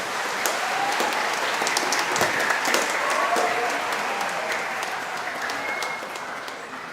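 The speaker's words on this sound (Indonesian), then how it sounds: "kita kasih aplaus yang meriah untuk mereka" A church congregation at Sunday mass breaks into warm, sustained applause that fills the hall steadily for several seconds before easing slightly.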